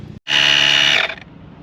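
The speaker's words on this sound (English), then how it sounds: "So as I was pumping the tire up" An AUXITO portable air pump inflating a car tire in a parking lot, Ford Focus ST nearby. Its electric whine starts abruptly after a short silence, holds steady and loud for about a second, then cuts off.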